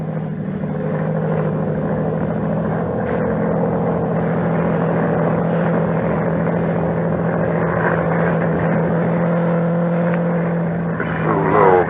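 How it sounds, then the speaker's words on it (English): Monoplane engine droning overhead as a 1938 radio drama sound effect, a loud steady propeller hum with a low buzzing tone that holds throughout, slightly swelling near the end, with no speech. "Low down in the south, a monoplane was climbing into the heavens."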